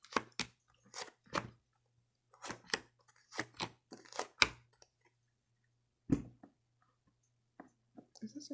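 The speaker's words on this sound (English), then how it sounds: "So put the 7 cards down." Tarot cards being laid down one after another on a table, giving soft, quiet taps and slides in an irregular series with a few pauses.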